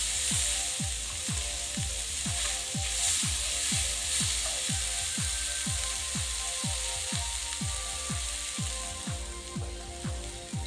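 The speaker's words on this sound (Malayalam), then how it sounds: "ഇനി എല്ലാം കൊണ്ട് നന്നായിട്ടൊന്ന് മിക്സ് ചെയ്യണം" Mango rice ingredients being mixed in a hot pan, a steady run of rhythmic scraping strokes over a continuous loud sizzle, close and alone with no voices.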